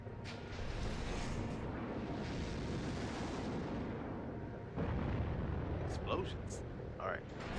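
Explosions from the Armored Core 6 video game form a loud, continuous low rumble of blasts, with a sharper burst near the end and a voice speaking over the din.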